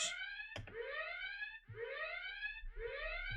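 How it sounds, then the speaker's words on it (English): A SAM warning alarm in the naval-air combat simulation Command: Modern Air Naval Operations repeats as a series of rising electronic tones, three clean pulses in a steady cycle, each cut by a brief click. "We've got Sam Alarm."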